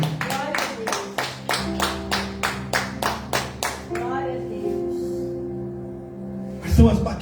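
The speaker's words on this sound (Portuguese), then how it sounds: "Eu dava uma salva de palmas para Jesus que nos acolhe." A church congregation clapping in a steady rhythmic beat, about a dozen sharp claps at an even pace with a sustained musical tone underneath, then the clapping stops and a brief thump follows.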